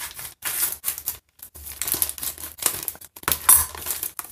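Crinkling and rustling of packaging with sharp snips and crunches, close up, in bursts separated by brief pauses.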